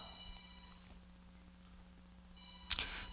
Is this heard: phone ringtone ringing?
yes